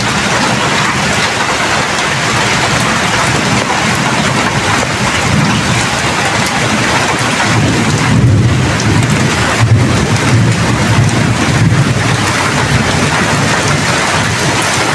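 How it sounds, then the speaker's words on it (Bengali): Heavy rain pouring steadily on a rural village setting, a dense continuous roar with low rumbles of thunder rolling in partway through, no voices. "বৃষ্টি উপভোগ করুন,"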